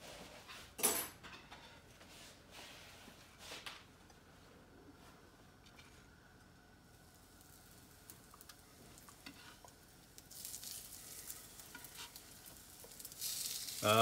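Cod cakes sizzle steadily in hot oil in a pan, a soft continuous frying crackle with a few louder spatters and stirring clatters near the start and a rising hiss toward the end.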